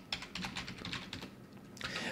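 Rapid keystrokes on a computer keyboard while coding a Godot 4.4 game, a steady close run of clicks with brief pauses, no talking.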